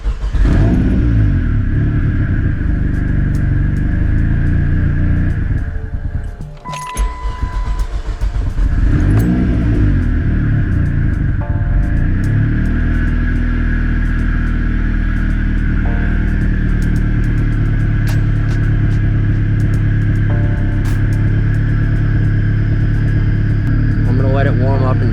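A car engine idles to warm up, a loud, close, steady low rumble and hum that dips briefly once, then holds even, with faint intermittent ticks over it.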